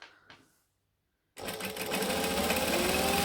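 A sewing machine stitches a pocket, kicking in after a brief rustle and a moment of silence, then running at a steady fast hum up close.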